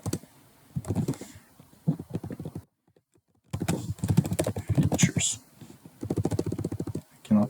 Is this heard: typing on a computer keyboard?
yes